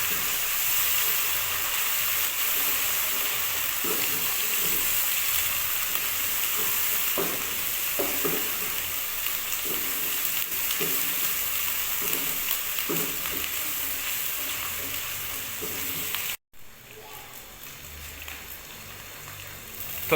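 Garlic ginger paste frying in oil for chicken karahi, a steady close sizzle with occasional stirring scrapes and no talking, cutting off briefly near the end.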